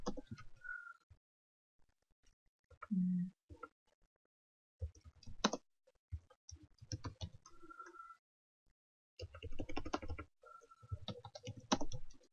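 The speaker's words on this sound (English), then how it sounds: "I'm just typing in YouTube to show you." Quiet, scattered keyboard typing in short bursts of clicks with pauses between, close and faint, no talking.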